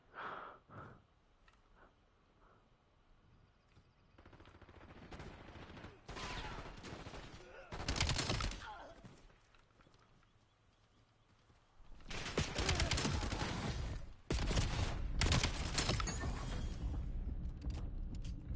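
Bursts of automatic gunfire in Black Ops 7 shooting at bots, sporadic shots early then loud sustained volleys in the second half, with a voice talking faintly underneath.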